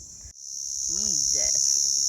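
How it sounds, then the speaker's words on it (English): Cicadas buzzing near a mudcrab-catching spot at 1770, a steady high, loud drone that continues throughout, while a brief voiced sound rises and falls beneath it. "Listen to the cicadas."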